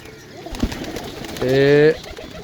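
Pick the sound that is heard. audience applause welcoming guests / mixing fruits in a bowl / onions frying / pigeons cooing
pigeons cooing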